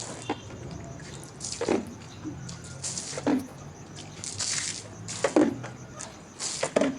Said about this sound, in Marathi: आणि अंगणात पाणी वगैरे शिंपडून घेते.